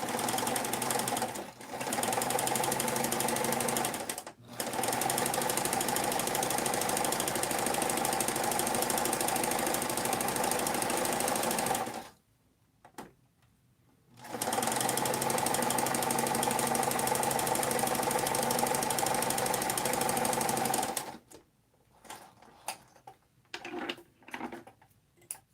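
A sewing machine runs a zigzag stitch along a fabric edge in long steady bursts of loud, close whirring, stopping briefly between runs, with a few short clatters at the end and no talk.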